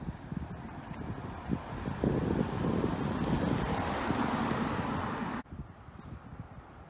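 Surf and wind along an ocean shore on an evening walk, a steady broadband wash with gusty rumble that drops off abruptly near the end, leaving quieter ambience.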